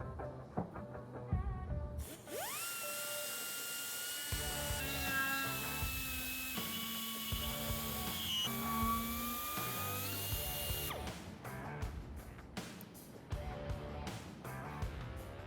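A power tool whines in a sustained high-pitched grind against metal on a 2022 Harley-Davidson Low Rider S motorcycle, shifting pitch slightly, then cuts off into scattered clanks and taps.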